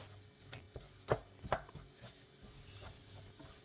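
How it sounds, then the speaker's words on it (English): Choux pastry dough being mixed vigorously in a pan over medium-high heat: a few sharp, close knocks and scrapes of a spoon against the pan, spaced unevenly, with quiet background between them. "cook it further as you mix vigorously like this."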